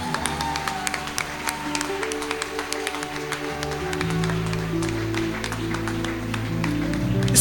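Applause for God during a Portuguese-language church service, scattered congregation clapping over sustained keyboard music with shifting chords and a deep bass pad, steady and moderately loud throughout.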